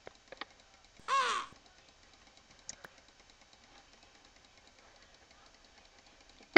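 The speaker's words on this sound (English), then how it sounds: "Now I have a blackbird." A blackbird in Minecraft gives a single short, harsh call in a quiet scene, with a few faint clicks scattered before and after it.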